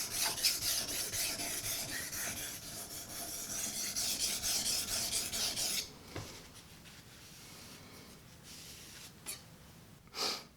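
Steady raspy strokes of a knife blade drawn along a sharpening steel, with pressure on the pullback, rub continuously for about six seconds and then give way to a few isolated scrapes over quiet background.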